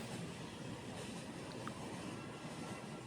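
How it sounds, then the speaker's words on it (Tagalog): A new LRT train at Libertad station gives off a steady low rumble and rushing noise, continuous and moderately distant, with no voices over it. "Yan po yung bagong bago ng LRT."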